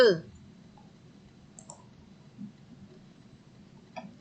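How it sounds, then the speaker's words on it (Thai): Computer mouse clicks made while editing a WooCommerce web page, a few faint, sparse, sharp ticks spaced across a quiet background, with a voice heard in the clip. "คลิกมาที่รูปนี้ค่ะ คลิกมาที่รูปเฟือง"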